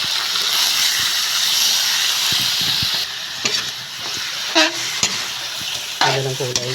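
Chicken sizzles and hisses as it hits hot margarine with browned garlic and onion, a steady loud fry broken by stirring clatter and utensil knocks.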